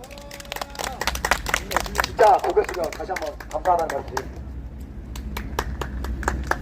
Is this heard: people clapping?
yes